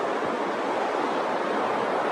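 Steady broadband roar of Pacific Ocean surf washing on the shore in Mexico, constant and fairly loud, with no voices.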